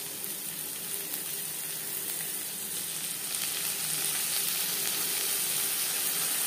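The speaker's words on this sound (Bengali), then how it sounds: "পেঁয়াজের সাথে মশলা বেশ ভালো করে মিক্স করে দেবো।" Ginger and green chili paste sizzles with onions in a pan, a steady mid-level crackle and hiss that grows slightly louder partway through, with no talk.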